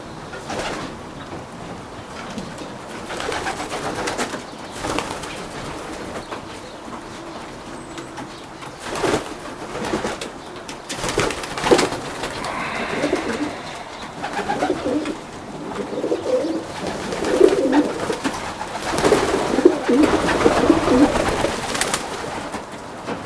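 Young pigeons of an inbred pair coo continuously in a loft, a low rolling murmur from several birds with occasional wing flaps and rustling throughout.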